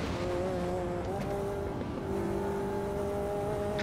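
A race car engine holds a steady, loud drone with clear tonal harmonics on the Nordschleife in Automobilista 2. The engine runs continuously, with a faint hint of tire squeal.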